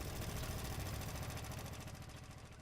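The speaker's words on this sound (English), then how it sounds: "that tractor's about as fast as pushing that damn thing" A tractor engine towing an artillery gun in Gates of Hell, a steady low idling drone that fades slightly toward the end, faint and heard alone.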